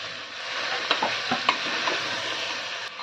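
Chicken stew vegetables being stirred in a hot pan, a steady sizzle with a few sharp spoon scrapes and clinks scattered through it, close and moderately loud with no talking.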